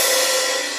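Crash cymbal struck while fingers stay resting on it, giving a thin, tinny wash with little resonance; a single loud, bright ring that stays steady and slowly fades over the short moment, with no talking.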